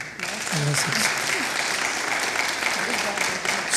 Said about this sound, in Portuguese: vamos recepcioná-los com uma salva de palmas, por favor